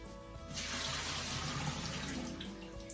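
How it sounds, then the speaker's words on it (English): Soaked sliced potatoes are drained as water pours steadily into a sink, a soft continuous rushing that starts abruptly after a quiet moment and holds at an even level throughout. "So now that my potatoes have been soaking for around 5 to 10 minutes, I'm gonna go ahead and drain them."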